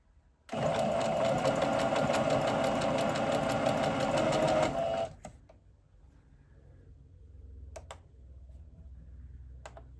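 A sewing machine runs a quick back stitch along a seam of a raglan T-shirt, a loud, rapid mechanical whir for about four seconds that stops abruptly, followed by a few faint clicks and quiet handling.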